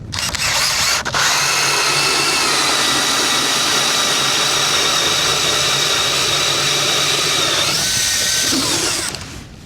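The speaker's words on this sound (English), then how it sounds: "So I'm gonna just drill a hole and we'll see what depth we're at." A powered ice auger bores a hole through lake ice, a loud continuous engine whine close by for most of the time, starting abruptly and tapering off near the end.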